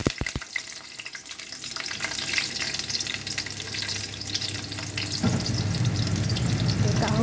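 Hot oil crackles and sizzles in a pan, starting after a few sharp knocks and swelling louder toward the end, close and continuous, while bihon noodles are being cooked.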